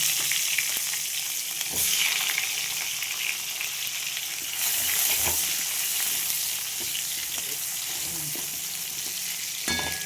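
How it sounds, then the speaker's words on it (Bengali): Small potatoes sizzle and crackle in hot fish-frying oil, a constant frying hiss with occasional clinks of stirring. "এই তেলটাতে, মাছের তেলটাতে আমি ছোটো ছোটো আলু নিচ্ছি, এগুলো ভেজে নেব"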